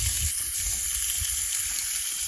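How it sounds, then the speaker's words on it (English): Steak sizzling on a gas barbecue outdoors at a country campsite, a fairly quiet steady crackling hiss with soft low bumps underneath, brief and continuous with no voices. "Oh, I love the sizzle of that steak."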